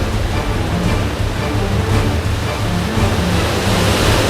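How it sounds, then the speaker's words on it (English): Waterfall in the Zion Narrows, a steady, loud broadband roar of falling and rushing water that holds constant throughout with no speech. "Okay, so we're at the waterfall,"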